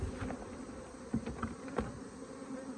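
Honeybees buzz in a low, continuous drone around a hive box as a nuc is installed, with occasional louder passes close by.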